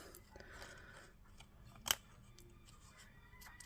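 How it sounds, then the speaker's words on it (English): Scissors fussy-cutting cardstock for handmade stamped cards, giving one sharp crisp snip amid soft paper rustling and handling, close and quiet. "let's just fussy cut this out. Trick with this is move your paper and not your scissors."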